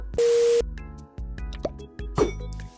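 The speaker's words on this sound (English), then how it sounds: "do the trident throwing sound" Minecraft trident throw effect from the game: a short, bright noisy burst, then ringing clinking tones and a second brief burst, all close and clean with no talking.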